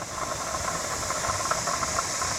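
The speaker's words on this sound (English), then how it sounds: "now I'm going to start the 10 minutes for venting steam now." Pressure canner loaded with raw-packed ground beef venting steam, a steady close hiss with a faint rattling flutter underneath.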